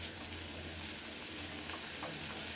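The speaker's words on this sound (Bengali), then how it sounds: "এবারে চিংড়ি মাছগুলো সরিয়ে দেবো ওর সাথে নেড়ে নেব ভালো করে চিংড়ি মাছগুলো দিয়ে" Shrimp being stirred into poppy seed paste in a frying pan for a spring onion prawn dish, giving a steady, continuous sizzle with faint stirring scrapes throughout, no talk.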